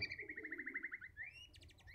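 A small caged songbird held in the hand sings a rapid trilling series of clear chirps, then rising whistles and quick high notes, close and fairly quiet against faint background noise.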